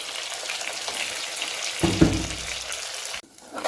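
Ground masala paste poured into frying onions for ulli theeyal sets off a loud, close, continuous sizzle, with a sharp burst as the paste lands and a sudden drop near the end.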